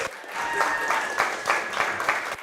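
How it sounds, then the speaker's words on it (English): Steady audience applause fills a room at a community coffee championship event, with dense clapping swelling in several waves and no talk over it. "Everyone, round of applause for Cash here."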